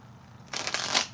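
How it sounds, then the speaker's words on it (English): A deck of cards is riffled once in a quick, crisp burst of papery flutter lasting under a second, close up, with no talking. "That didn't shuffle well. Let's try again."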